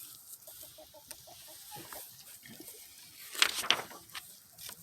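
Chickens cluck in short repeated bursts at a moderate distance, with a couple of sharper squawks toward the end over faint background noise.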